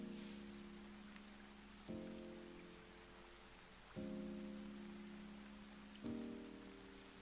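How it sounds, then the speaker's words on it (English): Steady white-noise rain hiss opening a rhythm-game track, with soft layered tones swelling in every couple of seconds, calm and even throughout. "a white noise of the rain falling"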